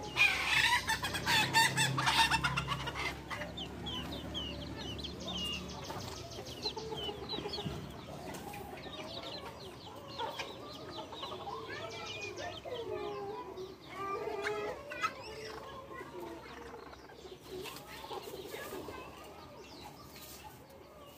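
Several hens cluck and chatter continuously at a moderate distance in a coop, with occasional sharper calls and faint background noise.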